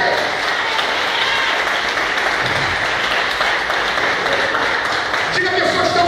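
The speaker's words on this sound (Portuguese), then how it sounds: "eu quero que você aplauda Ele nesta hora" A church congregation applauds during a Sunday service, a dense sustained roar of clapping from many hands filling the room, with a voice speaking over it.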